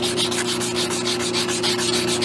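A motorcycle muffler end cap is hand-sanded with 80 grit paper close up, making a steady rhythmic rasp of back-and-forth strokes with no talk.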